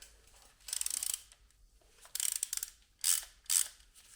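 A ratchet clicks in several quick bursts while loosening the timing belt tensioner pulley on a Mazda MX-5 engine, close and crisp, with short pauses between the bursts.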